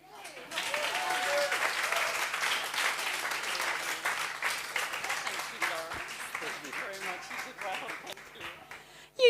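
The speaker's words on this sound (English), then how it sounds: "Please, a round of applause for Laurence." An audience applauds steadily at a talk on editing genetic diseases and sports injuries, dense clapping holding for several seconds before thinning out, with a voice briefly audible at the very end.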